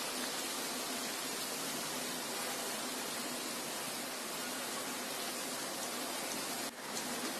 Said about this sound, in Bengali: ব্রাউন কালার করে ভেজে নিলেই হবে